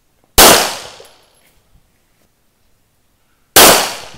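Two sharp gunshots at an outdoor gun range in Lipa, Batangas, each a loud crack with a decaying tail, spaced about three seconds apart with near silence between.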